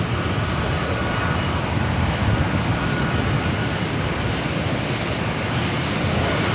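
Delta A320 jet on LAX runway 24 right as the next departure, a loud, steady broadband engine roar sustained throughout, close and dense with no talk.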